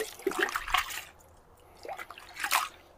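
Cloths are squeezed and sloshed by hand in a container of water mixed with non-bio washing liquid, giving soft intermittent splashes and drips, quiet and close.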